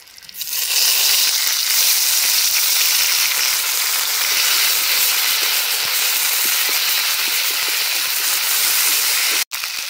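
A loud, steady sizzle of a wet ground paste of cumin, coriander, dried chili and ginger hitting hot oil, a broad continuous hiss that holds for several seconds before cutting briefly near the end.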